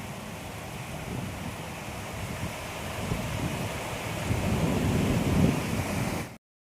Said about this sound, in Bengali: খুব বৃষ্টি এসে গেছে, বর্ষা এসে গেছে এবার।